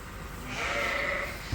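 A single drawn-out bleat from a young lamb in a sheep barn, close and fairly loud, with no talking.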